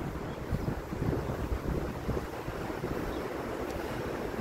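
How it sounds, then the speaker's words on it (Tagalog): Steady wind blows outdoors during a walk, a close, rough whooshing that buffets the microphone, alone without talk. "May hangin."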